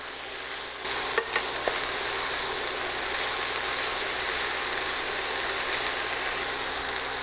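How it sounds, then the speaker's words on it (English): Asparagus and moong dal stir fry being mixed in a pan, a faint steady sizzle with a few brief scrapes and taps of the spoon early on. "Let's give it a good mix. Make sure all that gets mixed in well."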